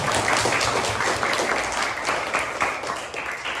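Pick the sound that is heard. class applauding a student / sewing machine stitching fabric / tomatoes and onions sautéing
class applauding a student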